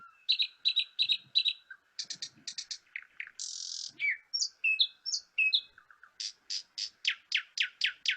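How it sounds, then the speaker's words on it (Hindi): Birds chirp and sing repeatedly in a dense forest, with bright rhythmic bursts of tweets and trills from several calls, clear and close with a quiet background. "घने जंगलों में से चिड़ियों की आवाजें आपके कानों में मधुरता घोल रही है।"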